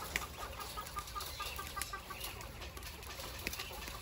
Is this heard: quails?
yes